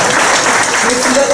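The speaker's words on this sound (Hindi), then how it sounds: "तो इनके लिए भी तालियां जरा अच्छी हुई" Applause from a mushaira audience at a poetry gathering in Offenbach, a dense steady wash of clapping throughout with some voices mixed in.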